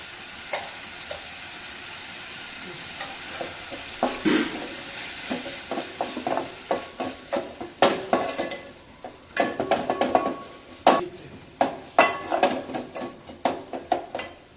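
Cooked rice and potatoes sizzle in a pan as chili powder is stirred in, a steady frying hiss under sharp scrapes and clinks of a spoon against the pan that grow louder and more frequent toward the end.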